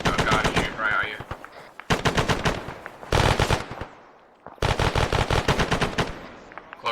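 Bursts of automatic gunfire in ARMA 3 during a platoon training session, loud, close rapid volleys in several strings separated by short pauses.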